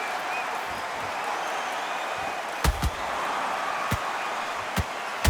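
An arena crowd at a boxing match keeps up a steady, broad roar, broken by several sharp, loud thuds and claps that stand out above the continuous noise.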